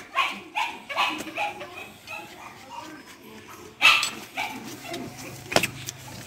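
A dog barks and whimpers in short, irregular bursts around a fence made of welded posts, heard under someone talking throughout.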